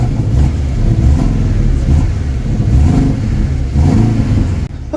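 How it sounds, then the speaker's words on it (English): A Porsche at a car show revs hard and close, its engine surging and falling in several loud pulls with no talk over it. "It looks like I'm gonna rev his Porsche."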